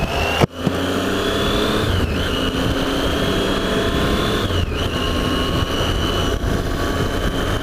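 A Triumph Tiger 800 motorcycle with its triple engine pulls away after a thump, its steady droning whine rising in pitch as it accelerates through gear changes, loud and continuous without speech.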